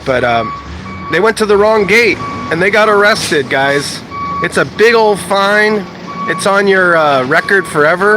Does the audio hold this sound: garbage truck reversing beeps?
yes